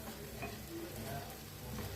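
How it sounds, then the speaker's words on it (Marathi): Masala for egg curry frying in a pan while being stirred, a soft continuous sizzle with faint scraping, quiet and close. "आता मस्त असं भाजायला लागले."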